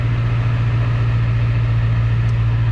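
A 7.3 Powerstroke diesel truck engine with a newly installed tuner idles close by, a deep, steady low-pitched drone with an even mechanical clatter and no other sounds.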